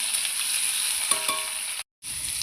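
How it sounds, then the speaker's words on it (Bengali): Taro and potato chunks fry in hot mustard oil with panch phoron and bay leaf, giving a steady soft sizzle with a light stir partway through and a brief dropout near the end. "কচু আলুটা ভালো করে ভেজে নেব।"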